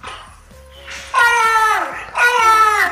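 A human voice pitched up by a helium voice-changer effect, producing squeaky, cartoonish, strained calls in two loud bursts after a quieter opening.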